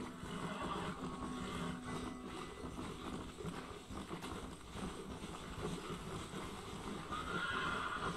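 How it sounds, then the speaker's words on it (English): A horse in the video game Red Dead Redemption whinnying and clopping its hooves over a constant wind-like background, faint and without talk. "Só que esse cavalo é ruim."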